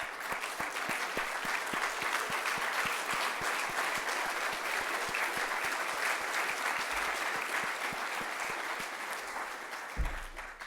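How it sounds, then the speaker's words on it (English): Guests at a business chamber's New Year's reception in Luxembourg applaud together. The clapping is continuous and even but fairly quiet and distant, with a few sharper claps, and it tapers slightly at the close. "we're going to give you a round of applause for what you're doing to train our young people"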